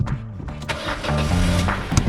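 A £450 micro car camper starts up with a brief cranking whir settling into a steady, low engine idle, close by, with faint beeping and no talk.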